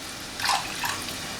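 Water, about three-quarters of a cup, is poured into a measuring cup in a brief splashy burst of close, bright trickling lasting under a second, with a smaller second splash after.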